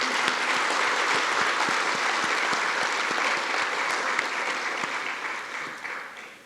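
A crowd at a 9/11 ceremony held by Palm Beach County Fire Rescue breaks into steady, dense applause that holds evenly for several seconds and then begins to fade away.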